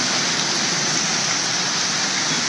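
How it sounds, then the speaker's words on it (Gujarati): Heavy monsoon rain pours down in Gujarat, a loud, unbroken hiss of falling water that stays dense and even throughout. "વરસાદ અત્યારે વધી રહ્યો છે"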